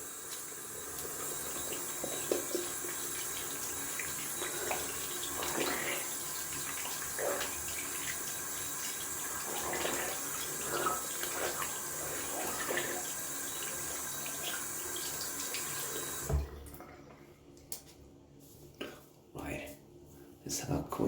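Tap water runs steadily into a sink as it is rinsed during a wet shave, a close, even splashing hiss that stops abruptly near the end and leaves quieter room sounds.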